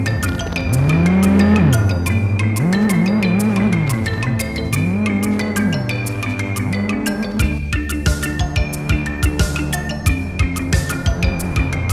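Rally cars in the video game My Summer Car roar past with loud engines rising and falling in pitch through repeated revs. Tires squeal and skid toward the end, close and dominating, with no talking.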